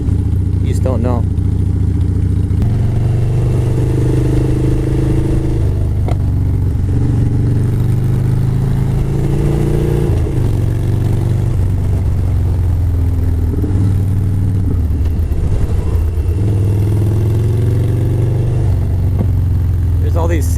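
A Harley-Davidson motorcycle fitted with a Barnett clutch cruises a canyon road on South Mountain, Arizona, its loud, steady engine drone rising and falling with throttle throughout, close to the rider, with someone talking over it.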